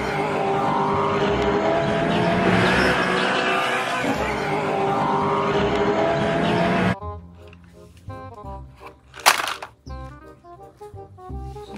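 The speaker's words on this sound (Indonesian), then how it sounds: "ini ada mobil monster teman-teman" Toy monster truck playing loud engine and skidding race-car effects for about seven seconds, then quieter electronic tones and beeps.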